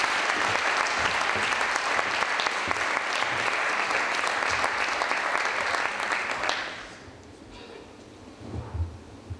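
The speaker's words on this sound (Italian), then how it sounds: "rifate l'applauso" A room full of people claps loudly and continuously at a racing team presentation, then the applause drops away abruptly after about seven seconds, leaving low room noise and a few faint sounds.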